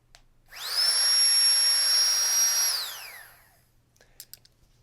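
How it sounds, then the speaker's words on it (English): A small battery-powered pump inflating an air mattress while backpacking gives a loud, steady high whine that starts abruptly, holds for about two seconds, then winds down, followed by faint handling clicks. "I bring a battery-powered pump."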